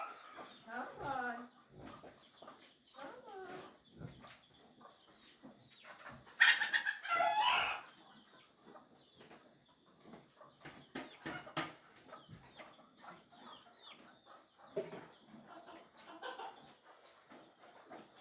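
Chickens cluck and squawk quietly around a yard, with a brief louder flurry of calls partway through, while a person talks over them on and off.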